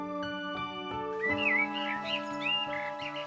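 Freed birds let loose a short flurry of bright, sliding chirps and whistles, rising over a backdrop of steady music.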